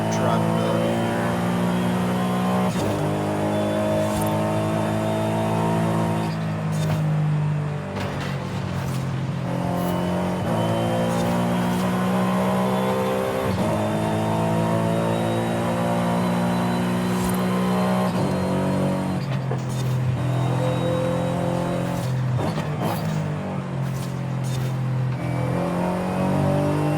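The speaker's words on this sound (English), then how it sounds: "This car turbo kicks in so violently." A turbocharged race car engine revs and accelerates hard through repeated rising gear pulls on a racing circuit, loud and close, with a voice talking over it.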